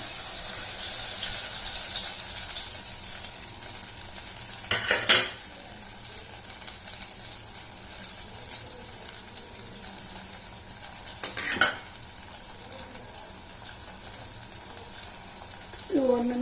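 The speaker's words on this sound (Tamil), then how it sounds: "இந்த வெந்தயமும் மிளகாயும் ஒன்று ரெண்டாக தட்டியிருக்கேன் அதை முதல் போட்டுட்டு இந்த ஜூஸையும் அப்படியே ஊற்றிடலாம்" Fenugreek seeds and chilies temper in hot oil before a tamarind-like citrus juice for bitter-orange rice goes in, giving a steady sizzle with stirring scrapes and two louder bursts as ingredients are added.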